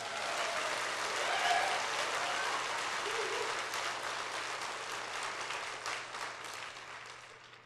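Steady applause from a church congregation during a Sunday sermon at a Korean church, sustained dense clapping throughout at moderate level, without speech.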